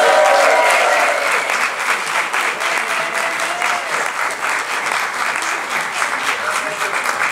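Audience at an improv theatre festival in Paris clapping loudly and continuously, a dense close wash of applause with faint cheering at the start.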